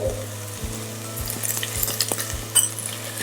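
Ginger garlic paste with onion sautéing in a pan for millet fenugreek pulao, a steady soft sizzle with occasional scraping stirs and light utensil clinks, close and alone without talk.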